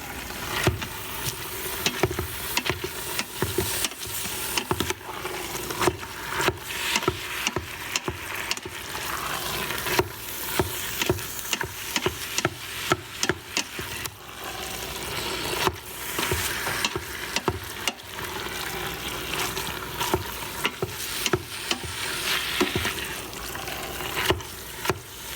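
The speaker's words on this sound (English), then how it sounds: "let's check our beef. It's browning up nicely." Ground beef browns in a pan for stuffed pepper soup, with a continuous sizzle broken by frequent scraping and stirring clacks from a utensil, close and steady throughout.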